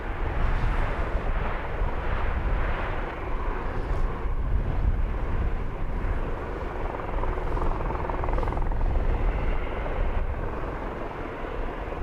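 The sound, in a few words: helicopter rotor blades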